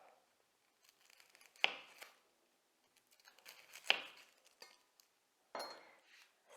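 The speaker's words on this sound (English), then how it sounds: "the first thing I want to cut up are the onions." A knife cuts onions on a cutting board in three separated strokes, each a sharp thunk with a brief scraping tail, close and fairly quiet between cuts.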